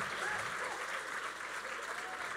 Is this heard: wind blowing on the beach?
no